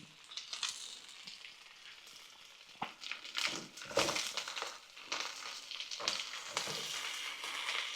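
Gluten-free sausages dropped into a hot pan and frying, crackling and spitting in uneven bursts that settle into a steady sizzle, close and moderately loud with no speech.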